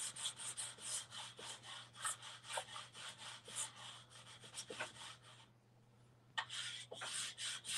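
A hand file strokes along a ski edge clamped flat in a vise during ski tuning, with steady rhythmic rasping back-and-forth passes, close and clear, a short pause near the end before the strokes resume.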